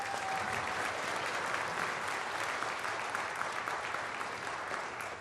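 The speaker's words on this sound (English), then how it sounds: "I think that's worth a round of applause." Sustained audience applause fills a school district state-of-the-system address, a dense, steady clapping from a large crowd that holds throughout and eases slightly at the end.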